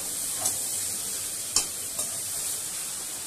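Vegetables and chicken for chowmein stirred in a hot pan, a steady frying sizzle with a few sharp scraping clinks of the spatula, close and alone.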